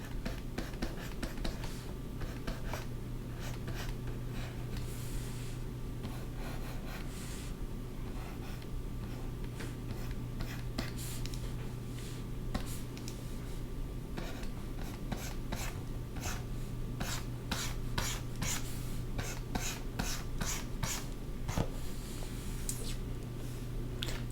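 A pencil scratches and rubs across paper while flower line work is refined, in a steady soft rasp with bursts of quicker strokes over a constant low hum.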